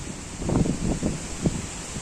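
Strong, cold wind blowing steadily, with gusty surges and rustling buffeting the microphone throughout; no speech.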